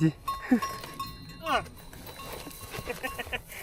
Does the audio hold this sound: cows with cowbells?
yes